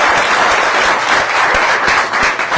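Church congregation clapping together after a sermon, loud continuous applause from many hands filling the room, with individual claps standing out close by.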